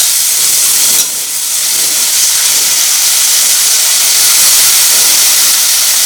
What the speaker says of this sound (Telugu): ముందుగా కడిగి పెట్టుకున్న వంకాయ ముక్కలన్నీ కూడా వేసేసుకుందాం